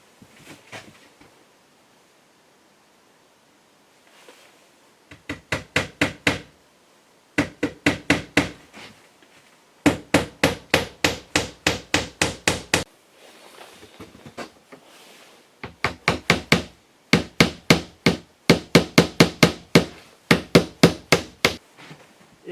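A small nail is hammered into wood during château renovation work, heard as close, sharp hammer taps in quick bursts of several blows, separated by short pauses and repeated about six times.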